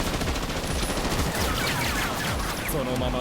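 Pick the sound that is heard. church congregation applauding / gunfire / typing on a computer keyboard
gunfire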